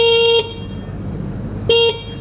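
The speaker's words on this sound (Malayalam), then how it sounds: "സോ ഇതിൻ്റെ ഹോൺ നമുക്കൊന്ന് കേട്ട് നോക്കാം." An OLA S1 X Plus electric scooter sounds its horn twice, two short, loud, steady electronic beeps separated by about a second of quiet.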